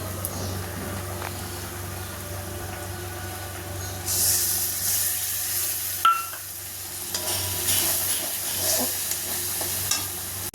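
Fried masala for paneer korma sizzles steadily after sour yogurt is stirred in, with a bright hissing spatter that swells midway and a few clinks of a spoon against the pan.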